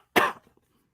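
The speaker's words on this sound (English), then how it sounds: "I was hitting that joint and I'm still coughing from it." One sharp, close cough bursts out from someone who has just smoked a joint, then trails into a few faint throat sounds before quiet.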